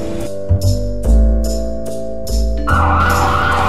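NYPD police car siren wailing loudly and steadily, with a deeper rhythmic pulsing under it and a harsher, brighter tone taking over near the end.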